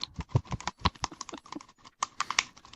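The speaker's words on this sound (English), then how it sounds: "It sounds like you're typing on a keyboard" Rapid, irregular clicking of keys on a computer keyboard, close and fairly loud, with uneven bursts of keystrokes and short pauses between them, heard alone without speech.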